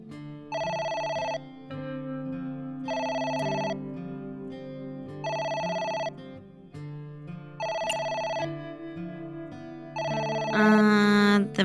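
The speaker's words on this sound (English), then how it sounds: "The phone is ringing." A telephone bell rings in five regular bursts of about a second each, separated by short gaps, loud and close with no talking, ending in a brief louder electronic flourish.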